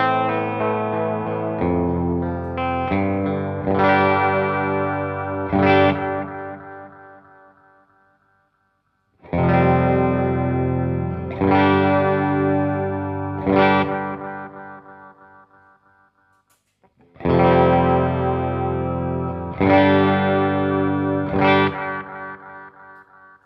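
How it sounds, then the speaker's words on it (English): Electric guitar runs through an MXR Carbon Copy Bright analog delay pedal, three loud strummed phrases each trailing off into bright, clearly audible repeats that fade out, with no voices. "Hear how the repeats sit on top of that sound as opposed to the older,"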